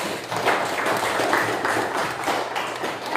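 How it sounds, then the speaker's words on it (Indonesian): A classroom audience applauds with steady, dense clapping that lasts a few seconds at moderate loudness, with no talking over it. "mari kita berikan aplaus kepada"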